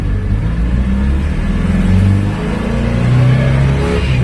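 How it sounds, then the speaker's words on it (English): A small Crosley car engine pulls away in first gear from the bottom of a driveway, a loud, rising mechanical drone with rough low-end rumble that holds steady and swells slightly as it accelerates. "First gear, go."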